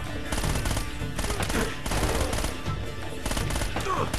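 Dense, continuous rapid gunfire from Uncharted: Drake's Fortune, loud and sustained with overlapping bursts and reverberant cracks throughout.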